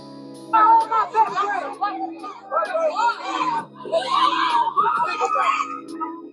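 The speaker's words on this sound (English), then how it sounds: "The shrieking is the sound of pure panic." Panicked shrieking and crying from several people during a street mob attack downtown at night, captured on a cell phone, with overlapping frantic voices and screams close by.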